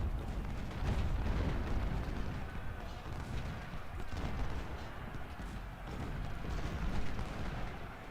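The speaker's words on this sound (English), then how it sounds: "Canister fire's murdering us." Canister artillery fire in a Civil War battle in Ultimate General: Civil War, a dense rumble of booming cannon over a continuous battle din, with hooves clattering in the mix.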